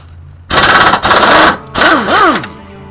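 An impact wrench removing 14mm bolts fires in loud, close bursts, a long rattling run followed by shorter pulses whose pitch sweeps up and down as the tool spins.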